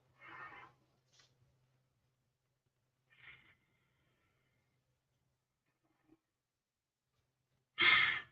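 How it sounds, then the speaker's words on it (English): Breathy exhales during a yoga breathing exercise, with a soft puff of air at the start, a fainter one midway, and a loud, forceful breath out at the end, heard close up between long silences. "breathing out"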